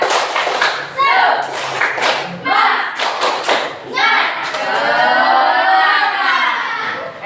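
A school class claps a cheer rhythm led by the class captain, with shouted chanting between bursts: sharp patterned claps and thumps, close and loud, then a sustained group shout.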